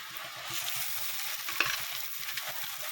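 Tomatoes tossed into a pan of onions on home-style noodle prep, frying with a steady close sizzle and repeated stirring scrapes throughout.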